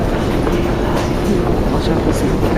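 Loud, steady rumble of a Paris metro train in motion, with a continuous low roar and rattling wheels; voices murmur faintly underneath.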